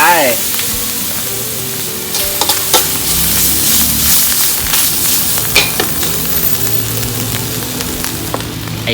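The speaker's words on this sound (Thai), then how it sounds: "พอผัดพริกแกงให้หอมๆนะครับ" Thai red curry paste being stir-fried with rat meat in a wok, frying and sizzling steadily and loud. Stirring scrapes and clatters recur throughout, with a voice speaking briefly.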